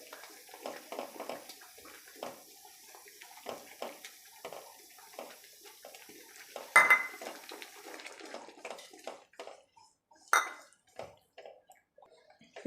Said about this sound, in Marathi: एका हाताने छान असं एक साईडने हलवून घ्यायचं।